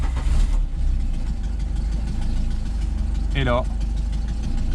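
A Peugeot 205 CTI being restarted after a repair, settling into a steady close idle with a brief rising whine partway through, while someone talks briefly.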